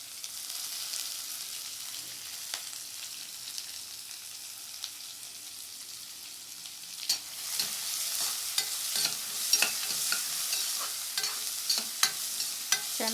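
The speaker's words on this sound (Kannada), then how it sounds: "ಚೆನ್ನಾಗಿ ಬಾಡಿಸ್ಕೊಳ್ಳಿ ಈರುಳ್ಳಿನ, ಹಸಿ ವಾಸನೆ ಎಲ್ಲ ಹೋಗಬೇಕು." Chopped onion fries in a hot pan while being stirred, a steady close sizzle broken by repeated scraping and clinking strokes that grow busier in the second half; no one speaks.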